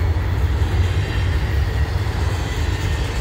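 CN freight cars, including skeleton cars, roll past close by with a continuous low rumble and steady clatter, no talking.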